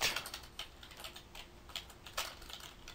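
Light clicking of fingers typing on a computer keyboard at a command prompt, irregular bursts of keystrokes close up, with no one talking.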